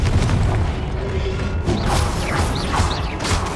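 In the video game Hogwarts Legacy, the Confringo explosion spell goes off as a loud, rumbling blast, followed by crashing debris, creaks and whooshing magical effects, all close and full, with no voices.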